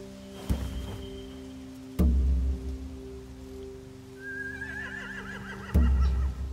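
A horse whinnies with a wavering, trembling call amid rain-like patter and a few sharp thuds, in a scene from the game The Walking Dead: The Final Season.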